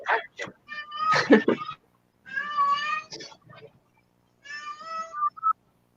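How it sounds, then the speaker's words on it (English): A cat meowing several times in drawn-out, tonal cries separated by short silences, fairly close, with a brief throat-like noise between calls. "It sounded like a cat to me. Maybe it's a cat."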